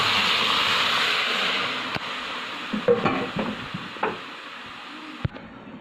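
Lentils tipped into hot oil with browned five-spice seasoning, a steady sizzle throughout with scattered scrapes and knocks of a spoon stirring the pot, close and moderately loud.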